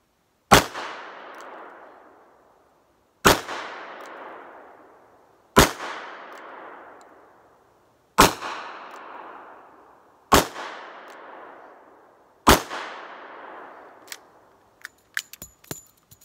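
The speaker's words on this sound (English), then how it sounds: "We're starting out with the Smith & Wesson" Six evenly spaced shots from a Smith & Wesson M1917 revolver fired single action at a target, each a sharp, loud report with a ringing decay, about two seconds apart, followed by faint clinks.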